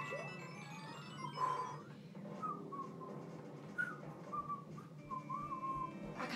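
Someone attempts to whistle and manages a string of thin, wavering notes, short and uneven with breathy gaps between them, quiet and close.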